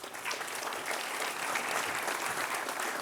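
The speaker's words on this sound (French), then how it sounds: "Alors je vous propose de les applaudir pour commencer." An evening round-table audience applauds speakers coming on stage, a steady wash of many hands clapping in a hall, sustained and even throughout.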